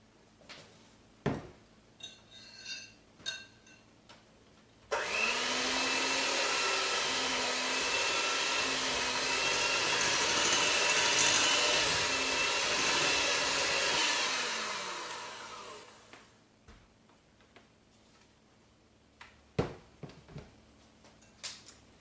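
An electric hand mixer whirs steadily through chocolate walnut pie filling for about ten seconds, loud and continuous, with kitchen clatter and bowl knocks before and after.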